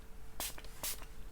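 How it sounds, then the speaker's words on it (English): Pitrok Crystal Spray deodorant sprayed in two short, close hissing bursts, with a fainter third puff at the end, in a quiet room. "So you can spray it on your armpits, you can spray it on your bits, you can spray it on your feet."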